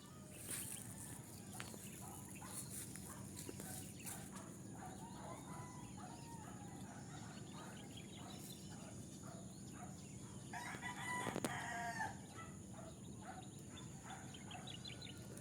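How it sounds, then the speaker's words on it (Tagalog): A rooster crows several times at a distance over a quiet morning background, with other fowl calling faintly between the crows. "Ayan mga tilaok ng manok."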